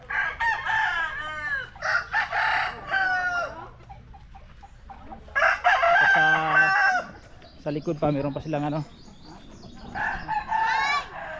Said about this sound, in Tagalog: Marami ditong mga alaga. Iba't ibang klaseng manok.